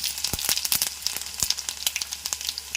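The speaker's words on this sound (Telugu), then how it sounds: "వెల్లుల్లిపాయ తర్వాత ఇదిగోండి జీలకర్ర వేసాను," Cumin seeds crackle in hot oil just after garlic in a Telugu-style tempering, giving a near, steady sizzle with sharp repeated pops and spatters throughout.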